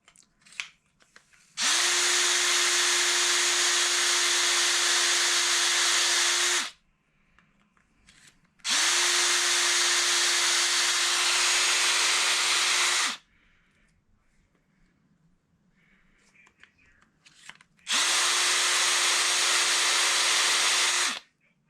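A power tool trims a wooden rollerball pen blank down to its brass tube in three long, steady whirring bursts, each lasting several seconds, separated by quiet pauses.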